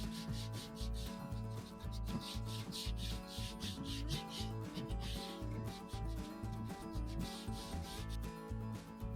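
Hand sanding on an old wooden tambour-front filing cabinet, a steady rubbing scrape that repeats in quick strokes and stays close and fairly loud with no talking.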